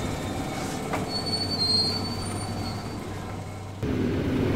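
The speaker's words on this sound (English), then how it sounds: "Higher speed rail." A high-speed rail train runs by with a sustained rushing roar and high wheel squeal, fairly steady and moderately loud, the sound jumping abruptly just before the end.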